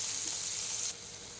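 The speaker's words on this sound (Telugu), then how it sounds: "ఆయిల్ వేడెక్కాక షాజీరా లవంగాలు చెక్క ఈ మూడు వేసి ఫ్రై చేయాలి" Shahjeera, cloves and cinnamon stick frying in hot oil, a steady close bright sizzle that drops slightly in level partway through, with no voices.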